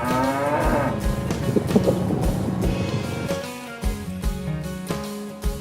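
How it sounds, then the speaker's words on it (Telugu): A water buffalo moos in a long, low, drawn-out call, followed by a steady rhythmic tapping and rumbling in the background, close and fairly loud with no talking. "ఇక్కడ మన గేదె మహారాజు అలా చూస్తున్నాడు"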